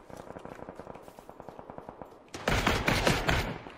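Machine gun fire in a shooting video game: a fast, rhythmic rattle of shots at moderate distance, then a louder, denser burst of gunfire crowding the last second and a half.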